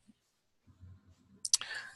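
A single mouse click on a gear settings icon, a pair of sharp close ticks that come right after a stretch of low murmured talk.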